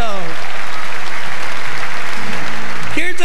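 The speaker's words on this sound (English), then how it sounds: "Give them one more nice round of applause, ladies and gentlemen." A loud, dense round of applause from a Grand Ole Opry audience in Nashville, steady clapping and crowd noise throughout, with a voice rising over it near the end.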